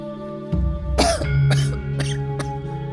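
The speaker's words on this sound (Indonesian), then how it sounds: "Aryatada juga menyempatkan mendahulukan batuknya" A man coughs about five times in a rough, close burst sequence, each cough sharp and loud over a steady low musical drone, with no talking.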